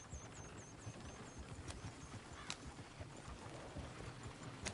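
Horse hooves clip-clop steadily over a busy, noisy background in the video game Red Dead, with a brief whinny-like call and a few sharp bursts.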